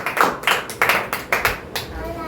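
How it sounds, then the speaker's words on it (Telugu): Church congregation clapping hands together in a steady, evenly spaced rhythm, several sharp claps of moderate loudness in a reverberant room. "చప్పట్లు కొట్టండి చేతులు ఉంటే మాత్రం"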